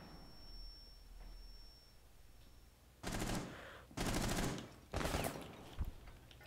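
Three loud bursts of rapid automatic gunfire from a video game gun, each lasting under a second, fired in quick succession after a quieter stretch of background game noise.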